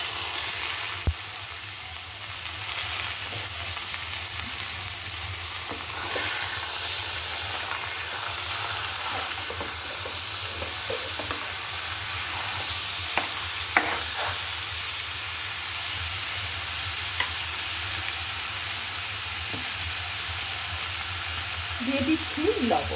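Washed, drained rice tips into hot oil after fried onions for bhuna khichuri with beef, then fries with steady loud sizzling and hiss, scraping stirs and occasional clinks across the whole stretch.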